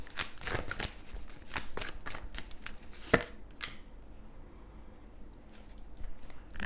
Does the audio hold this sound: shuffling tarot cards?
yes